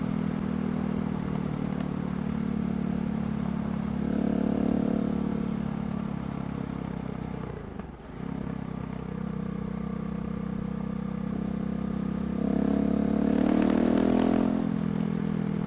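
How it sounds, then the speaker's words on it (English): A KTM 690 SMC R motorcycle engine drones steadily up close, its exhaust note swelling louder near the end as the rider revs harder. "Listen to that exhaust."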